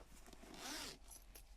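Zipper on a lined fabric pencil case being handled, one short close rasping pull with a few faint scrapes after, quiet and alone.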